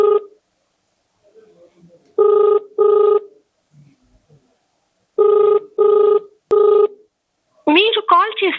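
A telephone ringback tone sounds while a call goes unanswered: paired ring bursts repeat twice with quiet gaps between them, and a recorded voice begins at the end.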